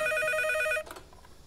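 A telephone rings indoors with a bright, steady electronic trill for under a second, then cuts off abruptly, leaving quiet room noise and faint shuffling.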